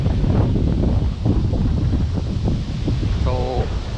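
Strong wind gusting at an island resort, a steady loud roar buffeting the microphone throughout with rustling, and a brief faint whine near the end.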